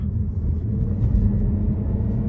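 A 2018 Chevrolet Malibu LT with the 1.5-litre turbo engine accelerates in low gear, producing a deep, steady engine rumble heard from inside the car with no talking.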